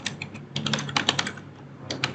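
Fingers tap quickly on a computer keyboard nearby, a run of crisp, irregular key clicks with a short pause before a couple more strokes.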